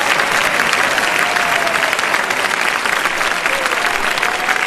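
A church congregation claps together in a dense, loud, continuous burst of applause, close and unbroken for a few seconds.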